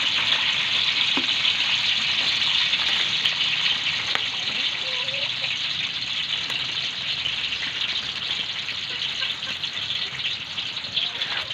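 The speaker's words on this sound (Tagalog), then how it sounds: "Ayan, unang ipiprito ang kikiam." Kikiam frying in hot oil in a wok for a lomi noodle topping, a steady loud sizzle and crackle that runs unbroken throughout, close by, with faint clinks of stirring.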